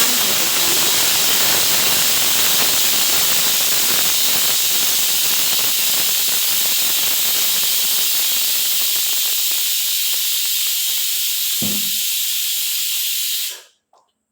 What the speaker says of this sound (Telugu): ఇదిగోండి ఇడ్లీకి పప్పు రుబ్బుతున్నానండి